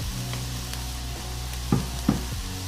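Olive oil heats in a cooking pot (faitout), giving a steady low sizzle with a couple of brief louder crackles near the end, close and alone.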